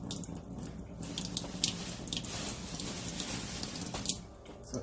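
Tap water running steadily over smoked ham hocks being washed in a sink, a close continuous splashing rush that changes as the meat is turned under the stream.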